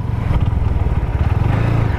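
A 4V motorcycle ridden by a woman rider, its engine running close and loud with a rapid pulsing throb that stays steady across the short stretch, no talk over it.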